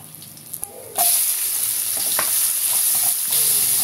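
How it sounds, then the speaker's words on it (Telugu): Onion hits hot oil in a pan already holding mustard seeds, curry leaves and turmeric for an aloo tomato curry, bursting into a loud, close, steady sizzle after a few soft clicks, with stirring scrapes underneath and no voices. "ఇది బాగా మిక్స్ చేసుకొని మనం ఆనియన్ కొంచెం గోల్డెన్ బ్రౌన్ కలర్ లో వచ్చే వరకు ఫ్రై చేసుకోవాలండి"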